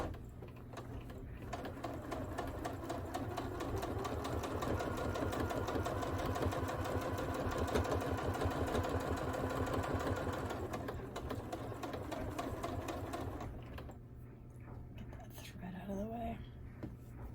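A sewing machine stitches binding onto a quilt, running steadily and fairly close for most of the stretch, then easing off near the end as a few faint background sounds come through.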